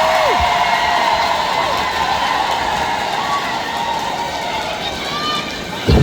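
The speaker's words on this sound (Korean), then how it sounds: "큰 박수 한번 주시겠어요?" A large outdoor crowd at a rainy trot concert event in Mungyeong, gathered for a cable car occasion, cheers and applauds in a loud, steady wash of noise lasting throughout, with whoops rising over the roar.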